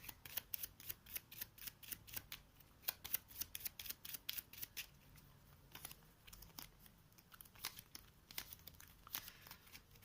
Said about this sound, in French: je vais remélanger son paquet